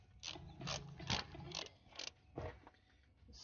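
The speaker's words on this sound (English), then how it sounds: "Grab a torque wrench." Ratcheting clicks from a torque wrench being set during an oil filter change on an LSJ engine, a handful of separate mechanical clicks and turns spread across a few seconds, close and moderately quiet, with no talking.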